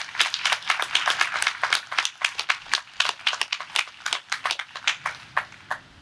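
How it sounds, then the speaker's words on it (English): Applause at a spring commencement ceremony honoring an honorary degree recipient, heard as rapid sparse claps from a modest crowd, steady for about five seconds then thinning to a few scattered claps at the end. "Let's give another round of applause for a very special honorary degree recipient."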